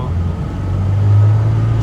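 The 2ZZ engine of a Toyota MR2 Spyder hums steadily as it is raised to and held around 2500 RPM, a loud, close, even drone with a low tone rising slightly.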